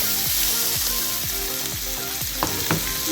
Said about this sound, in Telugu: ఇప్పుడు మనం కట్ చేసి పెట్టుకున్న ఉల్లిపాయలు వేసుకుందామండి.